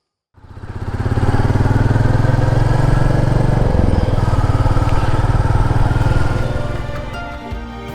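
A motorcycle engine starts and runs loudly and steadily up close for several seconds, a constant drone that eases off near the end.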